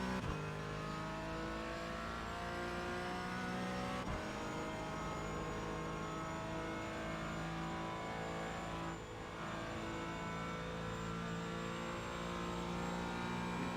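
A race car engine drones at Watkins Glen in a sim racing game, a steady loud multi-toned engine note held throughout, with a brief throttle blip change near the start and a short dip later, no voices.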